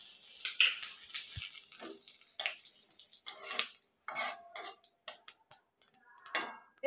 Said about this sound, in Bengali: তেলের মধ্যে আমি জিরে আর তেজপাতা ফোড়ন দিয়ে দেব